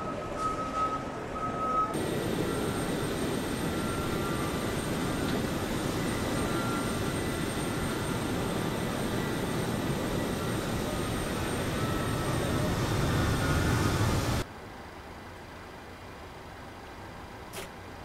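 PMDG 737-800 engines spooling in a flight simulator during pushback, a steady loud broadband roar holding for about twelve seconds before cutting to a quieter hum, with no talk over it.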